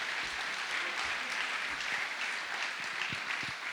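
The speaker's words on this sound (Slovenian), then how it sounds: "Dajmo še malo zaploskati," A concert audience claps for a Slovenian male vocal group and singer, steady dense applause filling the whole stretch at a moderate distance, with no words spoken.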